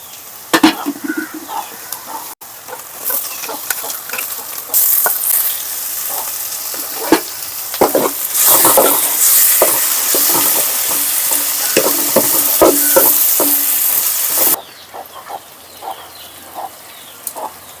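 Onions fry in a hot pan for a ponnanganni greens dish as tomatoes go in. A loud, continuous sizzle is broken by scraping and clattering stirring strokes that settle down toward the end.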